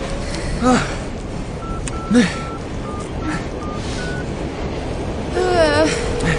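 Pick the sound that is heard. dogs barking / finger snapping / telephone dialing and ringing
telephone dialing and ringing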